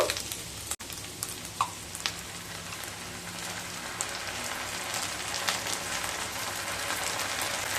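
Onions fry in oil over medium-low heat for Tel Koi, a continuous close crackling sizzle with scattered pops and no talking.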